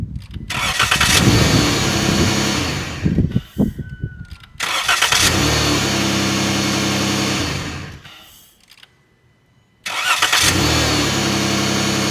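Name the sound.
tractor engine starting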